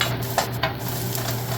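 Food is stirred in a pan of sizzling garlic, a few quick scraping strokes over a constant close hiss of frying.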